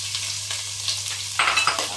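Chopped onion goes into hot oil with bay leaves and ground spice masala for Goan chicken xacuti, producing a steady crackling sizzle that grows louder partway through as stirring starts, with no talk.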